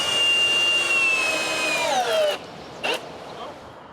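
A power drill drives a screw into a small vertical wooden piece on a wall plate, with one steady close whine that slows and drops in pitch before stopping, then a brief knock.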